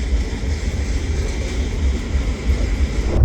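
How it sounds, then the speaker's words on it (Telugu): Inside an LTT passenger train bound for Mumbai, a loud steady rumble of wheels and carriage fills the space, with a constant low roar and faint rattling and no talking. "నేను ఎల్టీటీ ట్రైన్లో ఉన్నాను"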